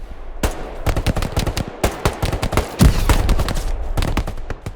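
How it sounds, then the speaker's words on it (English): Covering fire in the World War II game Hell Let Loose: loud, close bursts of machine-gun and rifle shots in irregular rapid volleys, with no voices. "Boys, I'm giving you covering fire on the ruined building, so try pushing it now."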